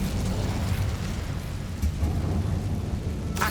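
Incendio fire spell cast in Hogwarts Legacy, a steady, loud roaring burst of flame that sustains for the whole moment, with a brief sharper flare near the end.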